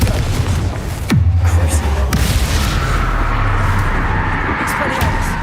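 A Confringo spell blast in Hogwarts Legacy detonates with a loud boom and a falling whoosh, followed by sustained rumbling and further impacts amid busy in-game combat noise.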